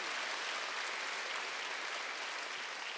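Steady, dense applause from a church congregation at a Wednesday worship service, a continuous wash of clapping that holds at an even level throughout with no talk over it.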